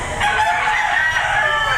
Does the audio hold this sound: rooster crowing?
yes